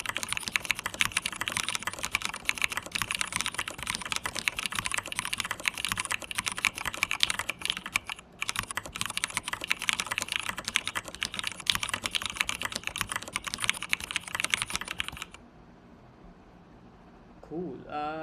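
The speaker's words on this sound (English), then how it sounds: "why don't we go back and do a typing test for just 15 minutes?" Rapid, continuous typing on a computer keyboard during a typing-speed test, dense clicking keystrokes held close and steady for about fifteen seconds, then stopping abruptly into near quiet.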